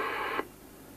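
Realistic PRO-2005 Tandy radio scanner from 1989, fed by a telescopic aerial on a workbench, gives a short hiss of interference-laden reception that cuts off abruptly into quiet background noise.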